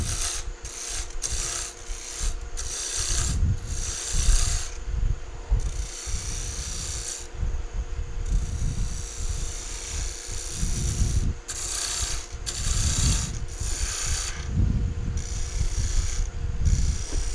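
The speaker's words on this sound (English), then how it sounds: "start cutting away some of this material and continuing that curve." Rhythmic rasping strokes of a tool cutting a curve into scrap wood, repeated steadily at close range with brief pauses between bursts, no talking.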